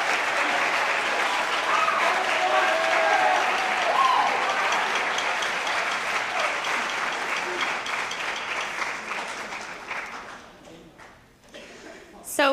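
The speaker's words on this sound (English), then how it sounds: "a big round of applause for Mrs." Sustained applause from an audience at a high school spring concert, loud and dense at first, gradually thinning out and fading toward the end.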